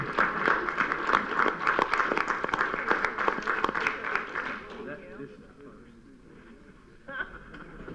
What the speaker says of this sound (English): Commissioner Jones, I want to stand up and give you a round of applause.